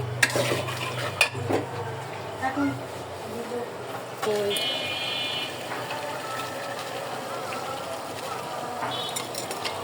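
Biryani masala with nuts being stirred and fried in a pan, a continuous sizzle under repeated scrapes and clinks of a utensil against metal, close, with a voice talking at times.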